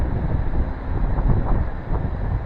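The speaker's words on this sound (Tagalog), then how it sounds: "Hangin." Gusty wind buffets the microphone with a low, rumbling roar that swells and dips, close and fairly loud, with no one speaking.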